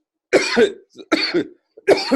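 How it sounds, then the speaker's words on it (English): Three harsh, close coughs in a row, each a short rough burst, with brief breaths between them. "making me cough still."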